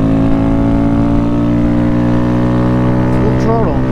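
A Honda Grom motorcycle engine held at full throttle, a loud, steady high-revving drone with strong harmonics close to the microphone, rising slightly in pitch near the end.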